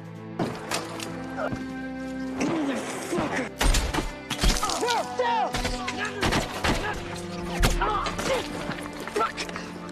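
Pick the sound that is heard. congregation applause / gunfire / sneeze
gunfire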